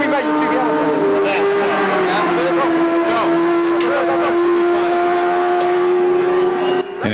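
A TVR race car running a Suzuki engine pulls out of the pits during a six-hour endurance race at Grattan, its engine droning steadily and loudly for several seconds with a rising pitch while voices talk over it.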